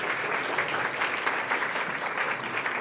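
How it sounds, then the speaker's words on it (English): An audience greets a visiting chef with dense, steady clapping that fills the whole moment at a moderate level, with no voices over it. "Incredible applause, please."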